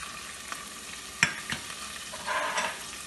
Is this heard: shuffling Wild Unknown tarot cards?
no